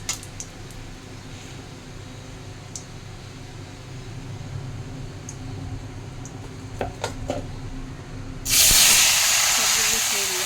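Radhuni spice dropped into hot oil in a wok after fried bori, quiet kitchen clatter and talking at first, then a sudden loud bright sizzle that holds steady to the end.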